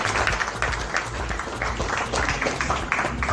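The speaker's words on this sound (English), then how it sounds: "So a round of applause for that before we announce the winners." Applause from an audience at an awards ceremony in India, just before the winners are announced, with a low hum beneath; clapping is moderately loud and continuous, somewhat muffled and blended with room noise.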